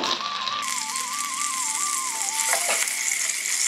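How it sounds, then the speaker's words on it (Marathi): Potatoes frying in hot oil in a pan for a fasting-day dum aloo dish, giving a steady, close, continuous sizzle with a thin melodic tone drifting over it. "आपण घेतलेली बटाटे आपण याला थोडं तळून घेऊया."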